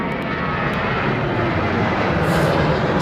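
Jet engines of a Boeing 747 Dreamlifter give a steady, loud, broadband roar that holds constant throughout, with no voices.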